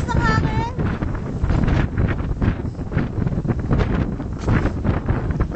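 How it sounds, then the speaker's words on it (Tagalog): Strong wind roars across the mic on a mountain hike at Pico de Loro, a loud gusting rumble that persists throughout while people talk over it. "Sobrang lakas ng hangin."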